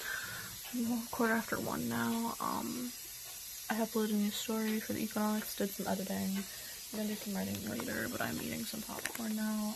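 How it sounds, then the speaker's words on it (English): A radiator hisses steadily in the background of an indoor room while a person talks over it, close and continuous, while eating popcorn. "if you can hear that hissing in the background, it's my radiator"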